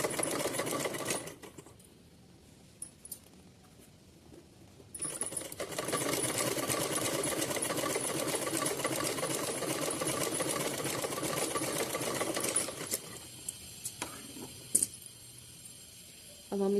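A sewing machine stitches along a folded fabric edge in bursts of rapid, steady needle chatter, pausing briefly between runs, close and clear with no talk.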